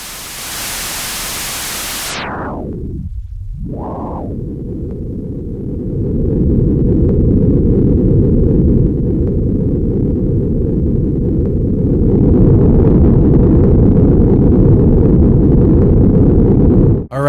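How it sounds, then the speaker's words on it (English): Pitched-down, distorted white noise forms a drone for industrial metal sound design. A bright hiss drops away into a loud, dense, rumbling roar that holds steady and grows heavier toward the end. "For drones, I like to use white noise, pitch it down, and add distortion."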